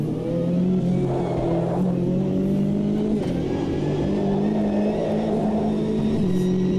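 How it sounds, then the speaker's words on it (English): GTE race car in the Automobilista 2 racing game, on soft slick tyres at Virginia, accelerating out of a corner: a loud, steady engine drone climbing in pitch, with a brief gear-change dip midway and continuous tyre and wind noise. "So gradually accelerating it out of the corner."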